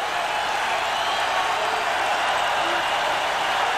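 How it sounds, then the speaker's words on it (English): Steady roar of a football stadium crowd at the 1990 Michigan vs Wisconsin college game, a dense continuous wash of cheering noise filling the whole moment without a break. "Crowd's into it."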